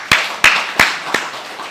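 Four separate, evenly spaced sharp claps ring out alone in a church sanctuary during a congregation's applause, each one crisp and close.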